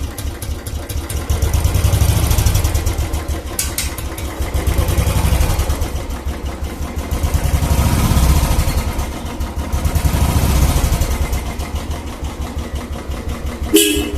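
A seven-year-old Royal Enfield Classic 350 single-cylinder motorcycle idles close by with a loud, steady thumping beat, the engine note swelling and easing several times as the throttle is blipped, with no talking over it.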